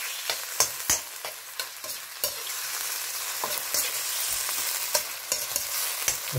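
Frozen raw prawns from Asda stir-frying in a hot pan, with a steady close sizzle broken by repeated sharp clacks and scrapes from stirring.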